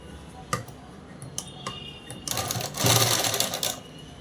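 Sewing machine stitching a dress lining: a few scattered clicks and ticks, then a rapid mechanical whirring run of stitching for about a second and a half, close and fairly quiet.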